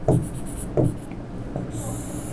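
Marker or chalk strokes on a teaching board come in three short scratchy bursts spaced under a second apart, close and moderately loud in a quiet room.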